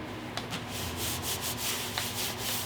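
A hand rubs a stencil down flat onto drop cloth fabric, making a soft, steady scuffing hiss broken by faint brushing strokes up close.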